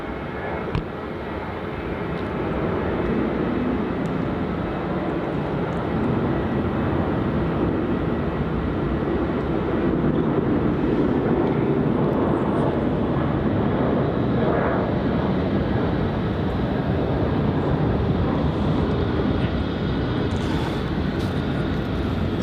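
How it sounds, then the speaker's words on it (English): A Qantas jet, flight QF 1517 from Canberra, lands on runway 16 at Melbourne Airport in heavy wet weather, a broad continuous roar of engine and rushing air sustained throughout at moderate distance. "we've got an arrival here on runway 16. It's a pocket rocket, as Max says, landing as QF 1517 from Canberra"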